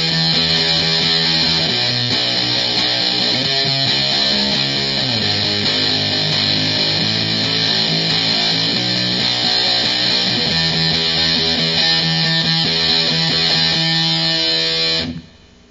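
Distorted electric guitar plays a steady power-chord rhythm with accented strokes, loud and continuous for about fifteen seconds before stopping abruptly.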